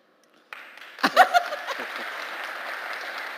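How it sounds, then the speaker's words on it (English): Audience applause at a conference on a live stage event, a steady burst of clapping that starts suddenly and continues throughout, with a few louder claps and light laughter near the start. "I learned to get the applause."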